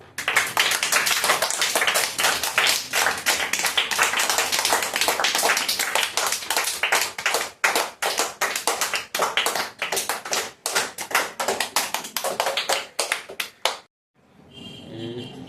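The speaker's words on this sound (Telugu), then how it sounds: "చప్పట్లు కొట్టండి" Students at a small school prize-giving clap their hands together, a dense run of quick sharp claps that thins toward the end and stops, followed by a short quiet murmur.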